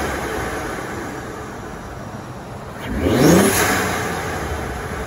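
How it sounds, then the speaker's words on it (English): A Ford F150 engine with an aftermarket intake and turbo, heard as a steady rumble that swells into a rising whooshing rev with a whine, then settles back to the idle drone. "what I did in the engine bay was I added an in-gen intake. Sounds really good. A lot of turbo noises."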